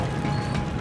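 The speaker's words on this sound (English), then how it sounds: "That's an interesting locking mechanic, or unlocking, or whatever." A mechanical unlocking mechanism in the video game Zwei: The Ilvard Insurrection gives a brief, steady ratcheting clank with a grinding, gear-like texture that holds at an even level throughout.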